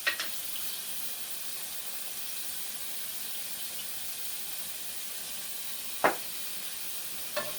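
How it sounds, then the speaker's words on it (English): Chicken tinga with dried oregano, cumin and tomatoes cooking in a pan, a faint steady sizzle with a few brief utensil knocks, quiet and close. "Give this a stir"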